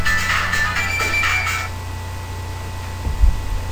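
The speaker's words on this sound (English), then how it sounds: "my phone is going off" A mobile phone ringtone going off, a bright repeating electronic tone for about a second and a half that then stops, followed by a faint low thump.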